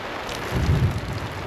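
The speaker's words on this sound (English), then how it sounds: "now it's raining a little bit harder, and the wind's picking up a little bit" Steady rain falls at a remote lakeside wilderness campsite while wind picks up, with a low rumble of distant thunder swelling briefly in the middle of the short stretch.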